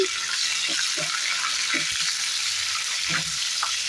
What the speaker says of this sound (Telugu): చూడండి ఆనియన్స్ పచ్చిమిర్చి బాగా ఫ్రై అయ్యాయి